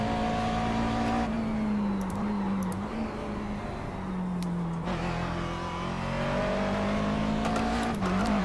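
A McLaren GT3 race car in iRacing at Bathurst roars steadily at high revs throughout, engine pitch dipping and rising through gear changes and corners, loud and close with no talk.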